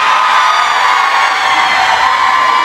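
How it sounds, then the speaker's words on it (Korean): A festival crowd at an outdoor insect festival roars in a steady, loud wall of cheering and shouting that holds without a break, with no single voice standing out. "민호 특공대 함성"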